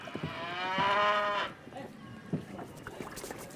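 Cattle low in a long, loud, harmonic moo on a city street, followed by shorter, fainter lowing and scattered street noise.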